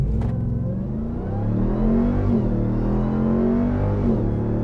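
A 2021 RAM 1500 TRX pickup truck accelerating hard from a standstill on a 0 to 60 run in sport mode, its engine roaring loud and rising steadily in pitch, close and continuous with no talking.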